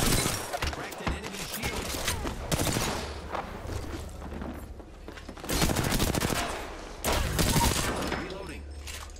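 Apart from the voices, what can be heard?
gunfire in video game Apex Legends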